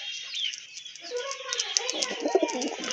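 A white chuina pigeon coos steadily, a low warbling call with a faint high hiss and a few clicks above it. It starts quietly and grows fuller toward the end, close by, with no talk.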